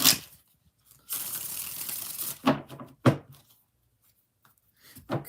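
Someone shuffles a deck of tarot or oracle cards during a reading, a close crisp riffle of about a second followed by several sharp taps and shuffles, with no talking over it.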